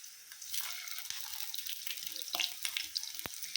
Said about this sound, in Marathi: आता वरची साईड फ्राय करून घेऊया.